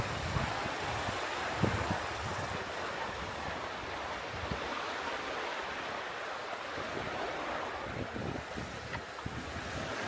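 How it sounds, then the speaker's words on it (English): Ocean waves wash steadily onto a Koh Samet beach in Thailand, and wind buffets the microphone throughout, making a broad, constant roar with no voices. "Sound of waves, something amazing about it, isn't it?"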